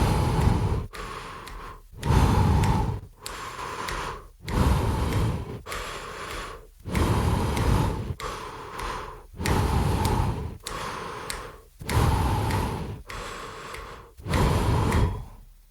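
Runner's breathing paced to a two-step rhythm, with strong, close breaths repeating about every second and a half in a steady alternating pattern, and nothing else heard.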